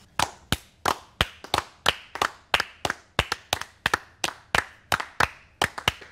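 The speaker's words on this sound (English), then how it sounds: "A little bit of clapping, a little bit of stamping." A group at a corporate team-building icebreaker claps and stamps in a steady, even rhythm, about fourteen sharp, crisp hits spaced roughly half a second apart, close and clear with no talking.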